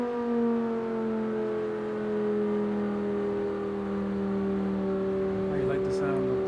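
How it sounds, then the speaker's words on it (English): A Lamborghini engine in the Forza Horizon racing game hums as a steady, droning tone whose pitch slowly glides, with no sharp revs. "How you like the sound of the Lamborghini?"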